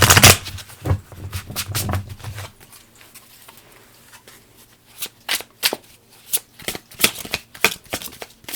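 A deck of cards is shuffled by hand: a dense riffle burst at the start, a quiet pause, then a run of crisp, rapid snaps and patters close by.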